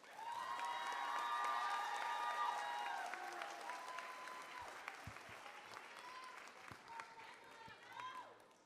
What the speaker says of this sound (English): can I have a round of applause for Miss Elena Lazaro.